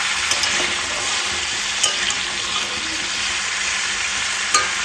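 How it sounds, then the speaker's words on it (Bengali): Bitter gourd and drumstick pieces fry in hot oil, a loud, even sizzle with a few light stirring taps scattered across the short stretch, and nobody speaks. "সবজিগুলো তেলের মধ্যে একটু ভাজা ভাজা করে নেব।"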